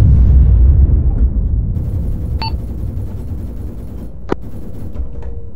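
Video game gunfire and explosions, a dense, loud rumbling barrage that opens heavy and eases slightly, with a sharp single crack near the end and a few brief electronic tones.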